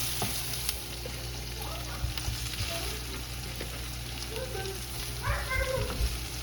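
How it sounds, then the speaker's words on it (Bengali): Cabbage frying in a pan at home, a steady sizzle throughout with occasional stirring clatter, and a voice and other household voices audible faintly underneath. "আমি এখানে বাঁধাকপি ভাজিটা বসিয়ে দিয়েছিলাম।"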